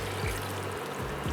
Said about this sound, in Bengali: বাটিতে যে মশলা লেগেছিল সেটাতে একটুখানি জল দিয়ে দিলাম